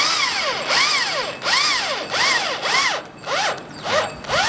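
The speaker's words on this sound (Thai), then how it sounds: "การติดตั้งก็ใช้สว่านทั่วไปครับ" An adjustable-speed drill drives screws into UPVC roofing, whining loud and close in repeated rising and falling bursts, about eight in quick succession.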